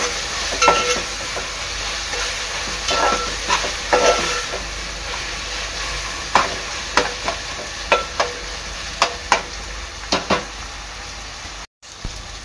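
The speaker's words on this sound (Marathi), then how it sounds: "अद्रक लसूण मिरच्या कोथिंबीरची पेस्ट मिक्स करून घ्यायची आहे" Ginger, garlic, green chili and coriander paste stir-fried in a pan for a prawn biryani: a steady loud sizzle and hiss with repeated sharp scraping clacks of a spoon against the pan.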